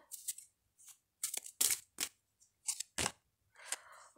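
Tarot cards drawn and handled during a reading, a string of short crisp snaps, slides and flicks of card stock in irregular bursts with quiet gaps between, close and fairly soft, no talking.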